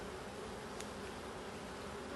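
Honeybees hum in a steady, soft drone while frames of a beehive are lifted and inspected, the buzzing continuous and faint with no voices.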